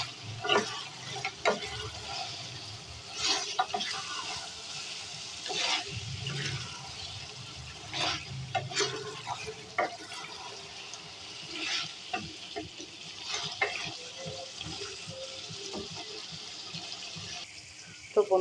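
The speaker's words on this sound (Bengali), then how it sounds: "আলুটা দেওয়ার পরে আমি আরও কিছুক্ষণ কষিয়ে নিলাম" Beef with cut spices and potatoes sautéed in a pan, with intermittent clatter of a spatula stirring over a low, uneven sizzle, close but fairly quiet.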